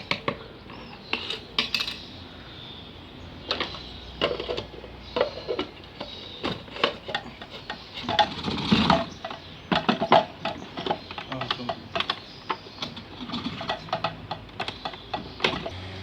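A grinding machine processes natural remedy ingredients for homing pigeons, giving a continuous rattling, clattering churn with uneven bursts and sharp ticks throughout, close and fairly loud.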